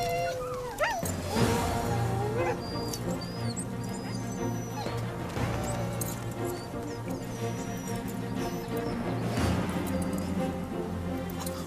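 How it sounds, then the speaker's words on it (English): Restless husky sled dogs in snow bark, yip and whimper together for several seconds, with overlapping high whines and sharp yelps over a steady background din, fairly close and continuous. "Huskies are originally from Siberia, where they've been used as sleigh dogs for centuries."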